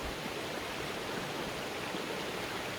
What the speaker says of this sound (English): I'm by this beautiful place where two creeks meet in Tasmania